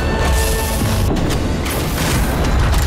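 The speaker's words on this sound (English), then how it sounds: "It explodes in a dazzling burst of light that blinds any nearby vampire caught in its rays." A light bomb from the Nosgoth video game detonates in a sustained, dense roar of blast noise, loud and continuous throughout with a sharper burst near the middle and no talk over it.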